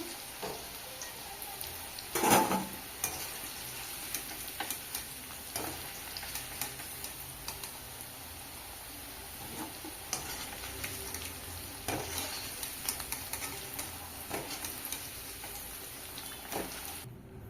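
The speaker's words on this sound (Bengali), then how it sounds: "আলু লাল লাল করে ভেজে নেব।" Potatoes frying in oil make a soft, continuous sizzle, broken by a loud clatter near the start and occasional light clinks of a utensil against the pan.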